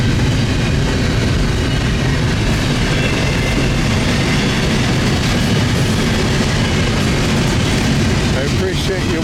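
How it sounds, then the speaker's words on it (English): A CN freight train, number 139 led by locomotives 2925 and 3914, passes westbound at Wyoming, Ontario, making a loud, continuous close rumble and rattle of cars that fills the whole stretch. "This train is westbound towards Sarnia."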